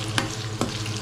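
Hot cooking oil in a pan sizzling in a steady, close hiss, broken by a few brief stirring scrapes over about a second.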